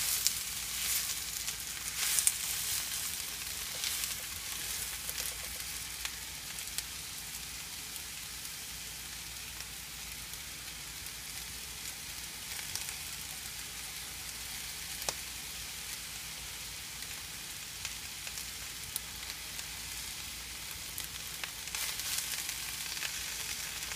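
Sliced fajita vegetables and mushrooms sizzling steadily in a pan over medium-high heat, a dense continuous crackle like light rain that holds even for the whole stretch, close and moderately quiet, with no talking.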